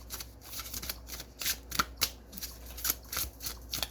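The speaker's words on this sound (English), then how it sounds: "we're going to get some tarot" Tarot cards being shuffled by hand in repeated quick riffling bursts, crisp papery flutters coming in uneven rhythm, close and fairly soft, with no talking.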